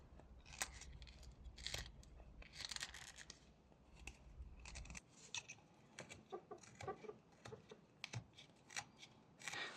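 Knife whittling a small wooden beaver figure, with a run of close, dry scraping and snicking cuts coming in uneven bursts, some sharp and clipped, others longer shavings, at a quiet level with no talk.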